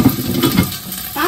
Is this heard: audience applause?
no